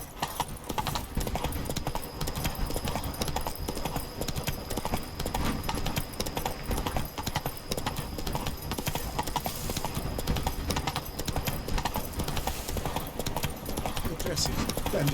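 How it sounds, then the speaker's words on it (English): Horse hooves clip-clop steadily throughout in The Witcher 3: Blood and Wine, a continuous rhythmic trot that stays close and fairly loud over a dense game soundscape, with a voice speaking over it. "Whoa there, Roach"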